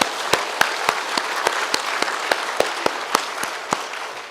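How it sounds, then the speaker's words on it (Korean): A church congregation claps in steady applause after a sermon, with sharper individual claps punctuating a continuous wash of hands, moderately loud throughout. "감사하다고 우리 먼저 박수하겠습니다."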